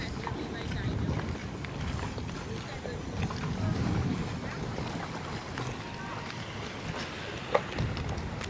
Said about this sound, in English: But somebody's just bringing a boat in there now.